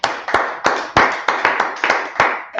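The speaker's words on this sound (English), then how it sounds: "Let's clap it up for the Lord." A crowd claps in bursts for the Lord at a gathering, loud sharp claps repeating in a steady rhythm with no voices.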